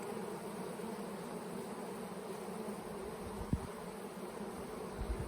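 A steady, dense insect hum of many bees buzzing close by, continuous throughout with a single brief thump partway through.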